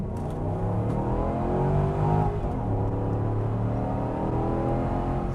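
A 2010 Volvo XC90 V8 accelerates hard, its engine note climbing steadily in a loud, continuous rising drone heard from inside the cabin.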